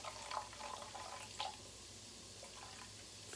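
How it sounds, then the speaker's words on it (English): Vegetable broth pours into a cooking pot for a red lentil stew, a soft close splashing with a few brief louder spills early, then a quieter steady trickle. "We're going to add 2 cups of vegetable broth."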